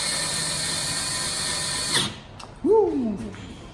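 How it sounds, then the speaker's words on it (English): A power drill drives the 10mm hardware holding a rear bumper cover on a 2009-2013 Toyota Corolla. It whirs steadily for about two seconds and then stops, followed by a brief whooping voice. "if you're doing a drill, careful, twist your hand"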